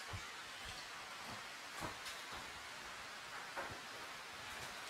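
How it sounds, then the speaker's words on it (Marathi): Heavy rain pours steadily on surfaces near a shop in Konkan, a dense even hiss with occasional louder drips and splashes, no voices. "पाऊस पण मोठा आलाय,"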